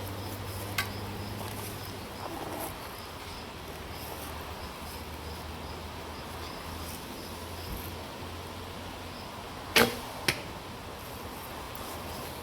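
A traditional archery bow is shot outdoors, giving a sharp, sudden release snap followed quickly by a second crack against steady faint ambient background noise, with no talking.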